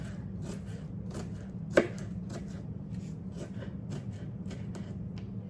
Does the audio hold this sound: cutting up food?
yes